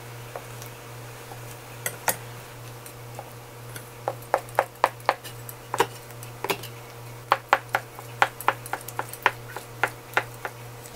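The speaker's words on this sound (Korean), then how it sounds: "먼저 이거를 채를 한번 썰어 보겠습니다" A knife slices soft, freshly made homemade acorn jelly into thin strips on a board, giving a series of light, sharp taps that come faster toward the end, close by over a steady low hum.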